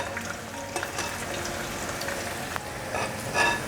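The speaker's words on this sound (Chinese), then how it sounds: "先让它炸定型" Sweet potato and king oyster mushroom balls deep-fry in hot oil with a steady, dense crackling sizzle, close and continuous, swelling slightly toward the end.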